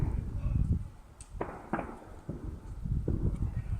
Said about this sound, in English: I can hear all the fireworks